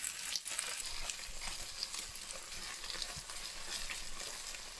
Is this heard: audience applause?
no